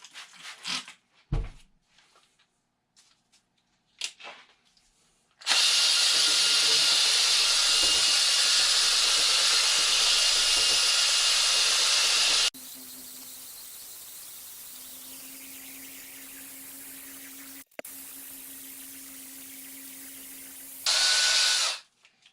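A power tool buffs a damaged headlight on a 2005 Pontiac Grand Prix GXP with 400-grit abrasive, giving a loud continuous high whine that drops to a lower, steadier hum partway through, with brief pauses and handling noises before it starts.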